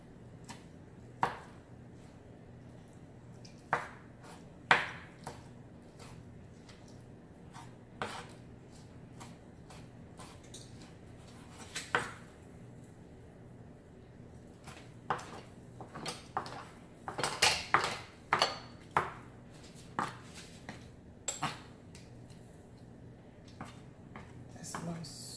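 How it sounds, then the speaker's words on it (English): A kitchen knife taps on a cutting board while ingredients for a pineapple jerk chicken stir fry are cut into pieces, giving scattered, light, irregular clicks over a long stretch, with some speech in the background. "Just cut them into desired pieces."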